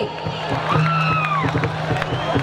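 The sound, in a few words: crowd applause and cheering at a concert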